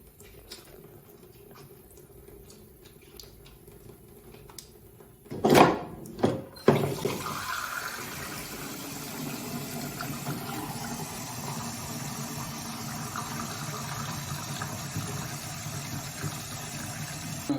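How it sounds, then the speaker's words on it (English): Water runs over a developing reel of black-and-white film in a wash, a steady rushing stream that starts with a few sharp knocks and splashes, then settles into continuous close flow. "we're going to put these back on the reel and let them wash."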